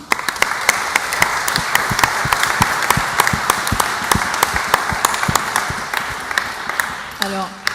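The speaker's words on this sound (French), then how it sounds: "que l'on applaudit très fort" Audience clapping for two prize winners at the EducNum 2016 awards ceremony, a bright, continuous round of applause with sharp individual claps standing out nearby, and a voice briefly returning at the very end.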